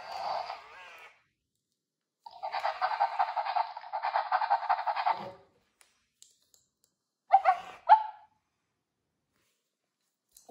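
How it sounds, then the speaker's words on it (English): Little Live Pets Bella toy robot puppy giving short bursts of electronic sniffing, a raspy snuffling sound with a longer sniff run in the middle and a few brief clicks and snorts, close and quiet with no talking. "When you press its nose, it starts sniffing."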